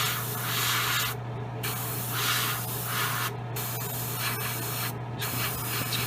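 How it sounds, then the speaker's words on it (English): Airbrush spraying gray automotive primer during a 1/35 Italeri Leopard 2 tank model paint job, a steady broad hiss broken by three short pauses, close and fairly loud, with a low electrical hum underneath. "I just gave it a shot of some gray automotive primer, and you can use that to test your airbrushing"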